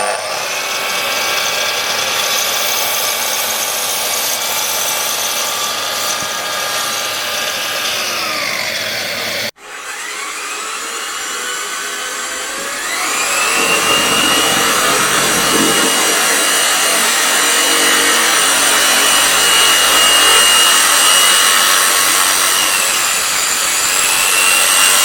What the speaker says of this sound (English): let's get the saw out and let's start making some stands.